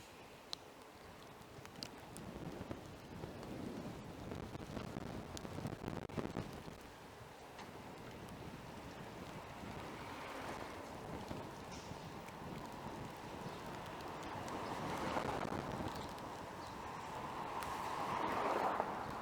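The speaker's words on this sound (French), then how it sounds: "C'est preuve que le vent il est costaud" Strong storm wind gusting outdoors during a tempest, a rough, uneven rush with bursts of microphone buffeting and scattered ticks and clatters, swelling louder toward the end.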